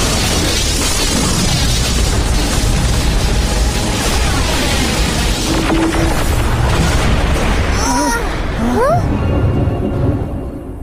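Explosion in the Ben 10 cartoon: a long, loud, roaring blast of dense rumbling noise fills the scene throughout, with descending whistling tones near the end before it eases off.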